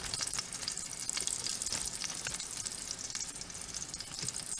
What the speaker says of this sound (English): Hear that sizzle? Isn't that sound of wonderful sizzling?